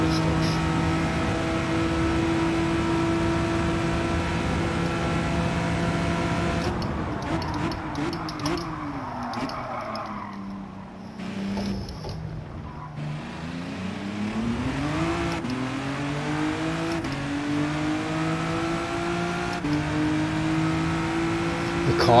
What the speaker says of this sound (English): The car's too loud on the game.